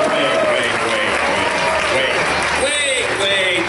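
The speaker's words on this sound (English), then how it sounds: "Give yourselves a round of applause." Audience at a charity auction breaks into sustained applause, a dense wash of clapping and crowd noise that holds steady throughout, with voices mixed in.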